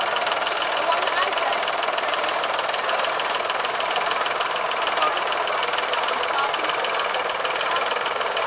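A vintage David Brown tractor engine idles at the Kilnsey vintage tractor rally, giving a steady, close, rapidly pulsing rumble that never changes pace, with people talking over it.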